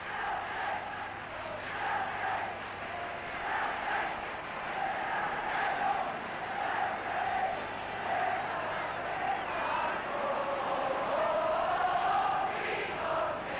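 A 126,000 crowd of Celtic football fans singing together, a sustained massed chant swelling in waves across the stadium, heard from a distance with a steady roar underneath.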